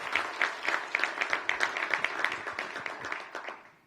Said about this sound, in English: Please give another round of applause for Charity Blackwell from DC Scores.